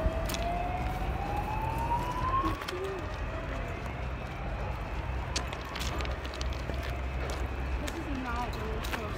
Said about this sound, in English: I seriously think that siren is for us.